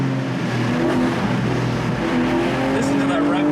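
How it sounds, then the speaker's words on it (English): A Porsche GTS with a 4.0 engine revs steadily upward, a loud close drone climbing in pitch over a few seconds with no talk. "Listen to that rev build up."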